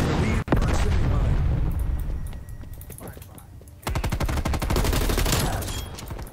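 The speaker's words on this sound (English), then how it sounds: "Requesting napalm strike." Napalm strike and gunfire in Call of Duty Black Ops Cold War: a deep booming blast opens, then sustained rapid bursts of automatic weapon fire rattle loudly, with a denser volley near the end.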